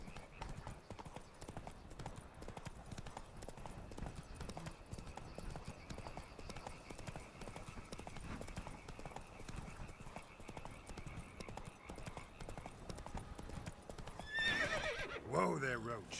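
Roach the horse trotting in The Witcher 3, a steady clip-clop of hooves running throughout under continuous game ambience, with a louder burst of activity and a whinny near the end.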